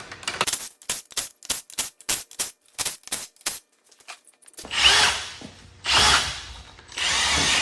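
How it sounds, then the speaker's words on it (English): A power tool pulls bolts from the automatic transmission valve body of a Plymouth Cuda, sounding as a run of short, rapid bursts with quiet gaps, then a few longer, louder whirring runs near the end. "All right, now I gotta pull all the bolts out of the valve body."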